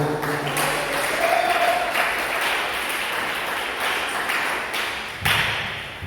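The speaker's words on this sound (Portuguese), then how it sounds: "Desocupem as vossas mãos e aplaudam o Senhor" A church congregation claps together in sustained, dense applause, steady and fairly loud with a few sharper thuds, filling the room from start to finish.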